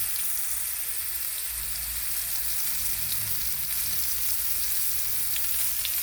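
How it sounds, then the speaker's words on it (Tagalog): Sliced chayote fries hiss and crackle in hot oil, a steady dense sizzle that fills the whole stretch without any voices. "Then fry it."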